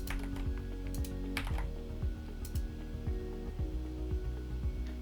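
Steady, close clicking of keys on a computer keyboard as credentials are typed in during a software setup, with uneven rhythm and no talking.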